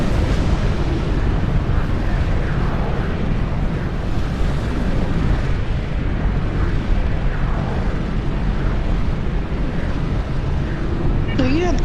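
Dense, sustained rumbling blasts roll on as a dreadnought is destroyed in the space game Star Trek Online, loud and continuous with deep booming bursts throughout.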